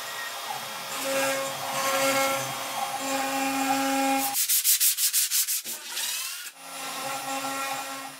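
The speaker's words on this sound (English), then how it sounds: "got started cutting them out on the CNC" A CNC router cuts plywood drag chain parts, steady grinding with a tonal whine that shifts pitch, then a burst of rapid pulsing strokes and a brief pause before the cut resumes, loud and close with no talking.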